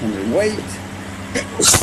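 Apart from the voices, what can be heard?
sneeze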